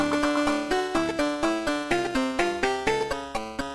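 Taiko rhythm game chart playing back a steady sequence of don and ka drum hits followed by a rapid drum roll, set over a bright melodic backing track at an even tempo.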